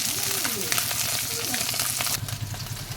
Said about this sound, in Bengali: এই মাছটা একটু হালকা করে ভেজে নিচ্ছি